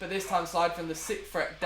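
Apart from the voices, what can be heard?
No distinct noise like a dog, phone or traffic.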